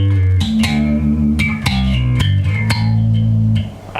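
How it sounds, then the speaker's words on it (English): Slapped and popped electric bass with a funky, filtered envelope sweep on the notes, punchy percussive attacks, played solo up close. "the envelope filter for some slap,"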